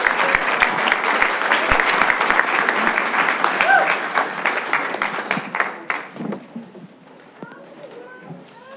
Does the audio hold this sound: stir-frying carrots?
no